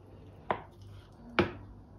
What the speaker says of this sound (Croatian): Sad ću ja isjeći ovako kriške.